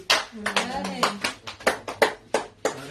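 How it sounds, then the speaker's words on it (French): Rhythmic congregational clapping during a church service, about ten sharp claps at a steady beat, with a voice singing or speaking over them. "Que nos applaudissements soient dignes de Dieu."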